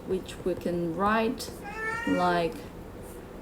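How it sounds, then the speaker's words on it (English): A pet cat meows twice, clear and close, with a person talking over it during a math lesson recorded at home. "so that's my cat."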